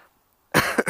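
A person with a lingering two-week cough lets out a short, harsh burst of coughing after a near-silent moment, close to the mic, with a second smaller cough following quickly.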